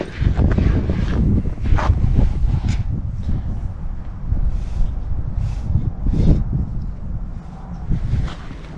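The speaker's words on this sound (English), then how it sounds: "it's so windy today that the tape measure is going to be blowing away" Strong wind gusts outdoors at a concrete house addition build site, heavy buffeting rumble on the microphone rising and falling in waves throughout, loud and close, with no voices.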